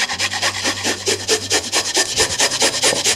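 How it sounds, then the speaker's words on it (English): A large garlic clove grated by hand over a bowl for baked whole cauliflower sauce, giving rapid rhythmic rasping strokes, loud and close, repeating evenly throughout with no talk. "Got quite a large garlic clove."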